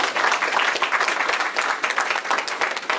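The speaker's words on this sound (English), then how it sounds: "the Commissioner deserves a lot of applause" Audience applause for the Commissioner at an investiture ceremony for a professional body's president and council, a dense steady roar of many hands clapping, loud and continuous throughout with no talk over it.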